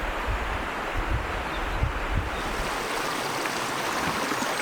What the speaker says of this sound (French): je sais pas si vous entendez, mais il y a de l'eau qui coule